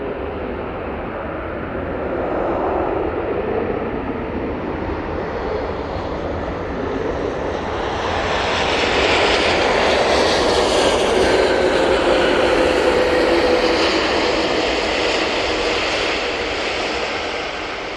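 An Aer Lingus airliner takes off at Manchester Airport with a loud, sustained jet engine roar that swells and brightens midway, then holds broad and heavy.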